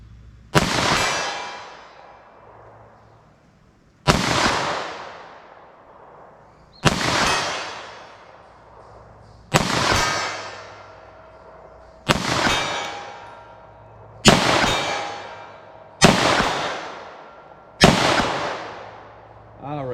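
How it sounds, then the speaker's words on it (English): Eight single 9mm pistol shots with Speer Gold Dot ammunition, fired slowly at a target 75 yards away outdoors, each a loud sharp crack with a ringing decay, spaced about two and a half seconds apart. "So I'm going to try to fire these as slow as I can and try to make some hits with these"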